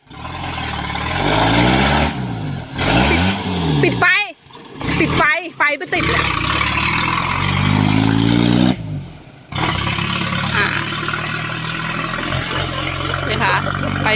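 A used car's engine revving hard in repeated surges that climb and fall, close and loud, during a driving lesson for a customer, with someone talking over parts of it.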